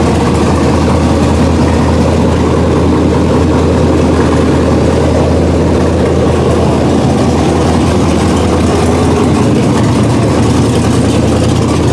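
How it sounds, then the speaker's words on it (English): A 1999 Ford Ranger's swapped LQ4 V8 engine idles loudly with a deep rumble, its speed hanging slightly high throughout with no other sounds. "You'll hear the hanging idle."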